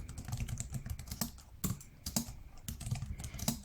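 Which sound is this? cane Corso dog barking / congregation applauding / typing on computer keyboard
typing on computer keyboard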